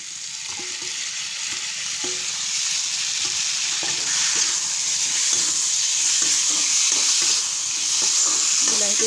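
Potatoes and tomato fry in oil with a steady, loud sizzle, while a utensil scrapes and stirs in repeated short strokes through the pan; no one speaks.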